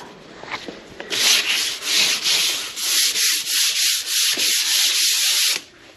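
Sandpaper scuffing a heavy coat of primer on a wooden cabinet box, heard as a steady run of rhythmic back-and-forth rasping strokes, close and loud, about ten strokes with no talking.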